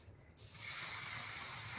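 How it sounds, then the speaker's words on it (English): Mizani humidity resistant mist sprayed onto lifted hair, a single sudden close hiss that starts after a brief quiet moment and holds steady to the end. "you can stick that comb in there and lift her hair and spray it to give her that lift"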